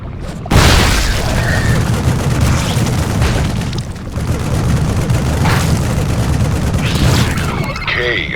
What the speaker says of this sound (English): Let me try out these shredder grenades.